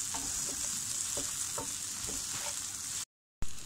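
Chopped onion and half a tomato frying in a pan for onion chutney, a steady close sizzle with a few soft stirring scrapes, cut by a brief silence near the end.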